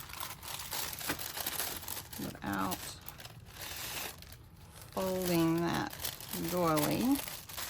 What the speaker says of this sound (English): I have this little plastic bag that I just am gonna slide this in if I can without folding that